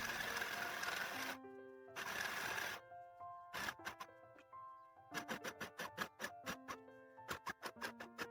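A mini sewing machine stitches a trouser hem in close-up: long continuous buzzing runs, then pauses and a rapid series of short whirring bursts as the needle drives through the fabric.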